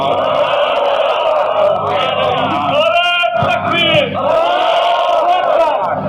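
A large religious gathering shouting slogans in unison, a loud sustained roar of many voices rising into a chanted call and answer, continuous and close.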